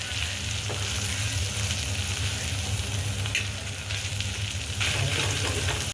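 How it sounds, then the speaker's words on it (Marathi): Fish roe fries in a covered pan, giving a loud, steady sizzle and crackle close up with a few faint stirring touches and no talking. "ते अंडी टाकल्या टाकल्या पहिलं झाकण ठेवायचं म्हणजे ते उडत नाहीत"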